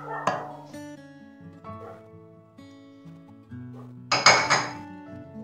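Bitter gourd pieces are tossed into a cooking pot for a Kerala-style mango curry, giving two clattering thuds, one at the start and one near the end, over steady tonal background sound.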